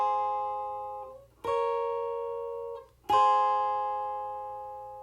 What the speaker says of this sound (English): I added in one final guitar on the second half of that verse that also plays